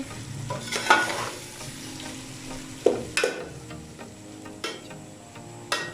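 Half a kilo of keema fries in a pan while being stirred, a low continuous sizzle broken by several sharp scrapes and clanks of the spoon against the pan, close and without talking.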